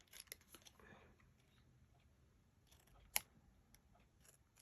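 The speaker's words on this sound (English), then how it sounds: "I'm going to, again, cut into those little" Scissors snip into the small corners of paper while making pocket paper clips or bookmarks for a journal, faint close cuts and light rustling with one sharper snip near the end, in a quiet room.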